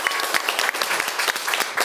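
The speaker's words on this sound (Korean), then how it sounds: "여러분 박수" A studio audience claps in a brief, lively burst on a Korean variety show, dense applause filling the short moment with a few sharper individual claps standing out.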